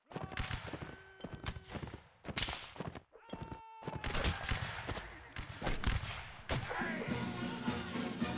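Musket volley fire in Napoleonic Wars crackles in loud, ragged bursts of overlapping shots, with separate reports before and after a brief gap, followed by continuous battle noise.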